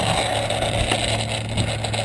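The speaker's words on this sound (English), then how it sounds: "why is it revving so high?" A modded Triton L3 Black Edition engine holds a high, steady rev, a dense constant drone at close range with no talk over it.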